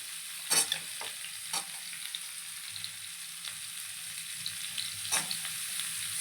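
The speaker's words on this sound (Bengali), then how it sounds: "এবার সব সবজিগুলো এক এক করে দিয়ে একদম লাল লাল করে ভেজে" Vegetables such as carrot, beans and tender bottle-gourd stems frying in a pan for a Bengali chorchori, with a steady low sizzle broken by a few sharp scraping stirs near the start and end.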